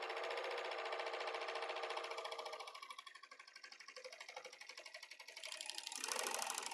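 A sewing machine stitches along fabric edges, a fast, even mechanical chatter at close range that slows and softens midway before speeding up again near the end.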